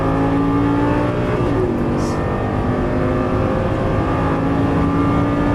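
Lamborghini Gallardo LP550 lapping a race track, its engine droning steadily in a high gear with a constant loud hum from the cockpit.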